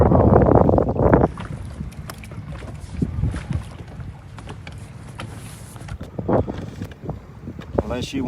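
Wind gusts buffeting a boat out on Reelfoot Lake during summer crappie fishing, with low rumbling wind noise on the microphone throughout and a louder blast at the start; voices talk intermittently over it.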